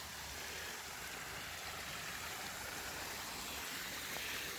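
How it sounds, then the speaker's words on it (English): A forest creek runs beside a campsite on the Pinchot Trail in Pennsylvania, a steady broadband rush of flowing water, close and constant, with no break and no voices. "I'm right by the creek here."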